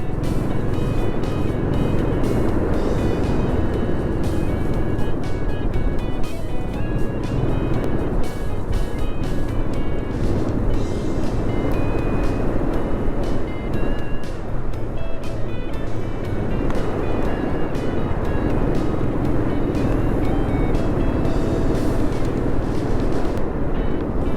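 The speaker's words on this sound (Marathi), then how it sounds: "बाईकवरती अशी राईड करायची आणि असे हेअरपिन वळणावळणाचा नागवडी रस्ता कोकणातला" A motorbike rides a winding hairpin ghat road in the Konkan, between Bagmandla and Mangao, with a steady, loud blend of engine and wind rush continuing without a break and no talk.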